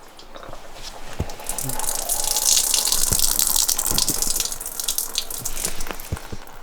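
Coolant gushing and splattering out of a supercharged Audi S4 engine after a blowup, a steady loud watery rush close by, with brief talk over it.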